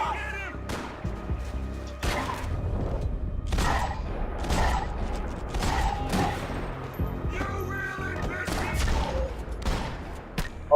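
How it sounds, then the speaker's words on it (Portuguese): Gunfire in the video game Max Payne 3, a chaotic string of sharp shots and impacts over game music and effects, with voices talking at times. "Olha o tiro me errando por pouco."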